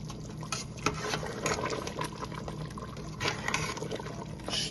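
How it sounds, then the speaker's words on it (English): Oxtail stew bubbles in a pot after two hours of simmering, giving soft, irregular liquid pops and gurgles that are close and fairly quiet, with no talking. "it's been bubbling for 2 hours, and it's almost ready"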